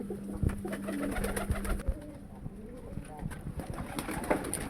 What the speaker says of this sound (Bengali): আজকে আমি আমার সব কবুতর ছেড়ে দেবো মানে আমার দেশি কবুতর এবং আমার লটন কবুতর সব একসাথে